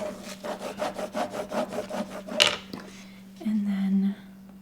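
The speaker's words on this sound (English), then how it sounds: "again, burnishing down" Repeated rhythmic rubbing strokes of a scraper tool burnishing craft vinyl sound close and scratchy. A brief sharp scrape follows, then a short, low rub, with a faint steady hum underneath.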